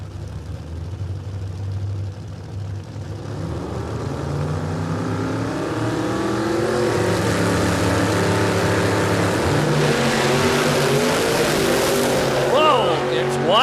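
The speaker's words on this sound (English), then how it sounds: "He was up on the tyres hard, absolutely blazing the tyres" A radial drag racing car launches at a Warwick drag strip, its engine note climbing into a loud, raw roar as the tyres spin hard, building steadily and staying dense and close to the end.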